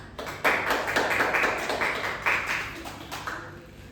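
Children in a sixth-grade classroom clap for a classmate, a loud rhythmic burst of many hands in quick succession that keeps going for a few seconds before trailing off, close and with no talking over it.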